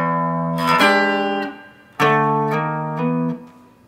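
An electric guitar plays a riff as sustained power chords, a few ringing chord hits that shift in pitch and decay, played clearly and up close with no talking.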